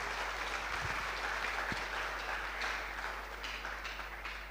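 Applause from a seminar audience, a steady wash of clapping heard from a distance, gradually thinning toward the end.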